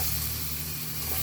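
Onion and garlic sizzle steadily in hot oil, a constant close crackling hiss with no pauses and no voices.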